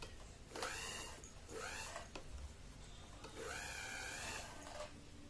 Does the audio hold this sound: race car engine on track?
no